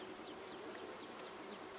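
Honeybees buzz around a hive box during colony splitting, a faint continuous hum of many wings with occasional individual bees zipping past.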